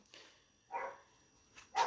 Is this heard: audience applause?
no